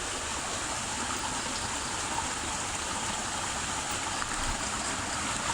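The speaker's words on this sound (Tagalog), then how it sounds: "Ayan, malakas yung tubig." Strong, steady rush of flood water running red after heavy rain beside a fish pond, a broadband roar that continues without a break, close and fairly loud, with no voices.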